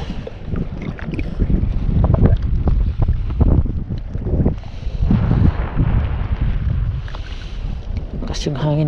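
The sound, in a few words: strong cold wind while fishing from a boat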